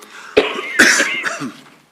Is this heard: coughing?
yes